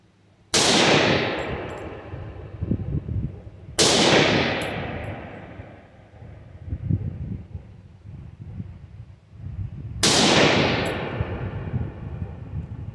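Three loud, sharp Ruger SFAR rifle shots ring out outdoors, spaced several seconds apart, each followed by a ringing, decaying echo, with no talking.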